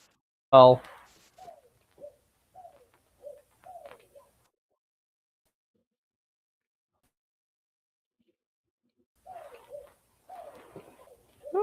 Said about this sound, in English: Oh my god, that's a lot of birds.